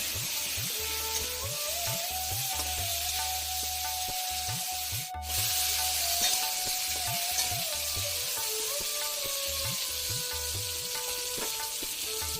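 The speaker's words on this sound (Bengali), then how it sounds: "এবার একটু 2 থেকে 3 মিনিটের মতো নেড়ে চেড়ে নেব।" Mango pieces fry with mustard seeds and dried chilli under a steady, loud sizzle, while a spoon scrapes the pan in quick, regular strokes throughout.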